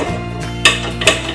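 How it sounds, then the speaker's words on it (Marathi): A metal pot set down on a gas stove in a home kitchen while making mango burfi, giving two sharp clanks about half a second apart over a steady background hum. "आता आपण गॅसवर भांड ठेवूया"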